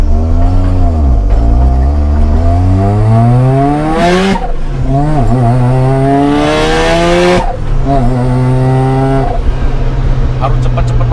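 A Mazda RX7 on the road revs hard through the gears: a loud, close engine note climbs steadily, drops sharply at each shift, then climbs again.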